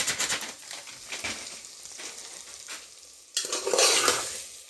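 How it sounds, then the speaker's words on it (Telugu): Dalia (broken wheat) roasting in ghee over a low flame, stirred with repeated scrapes and clinks of a utensil against the pan over a soft sizzle, growing louder near the end. "అదే నెయ్యిలో వేయించుకోండి ఫ్రెండ్స్."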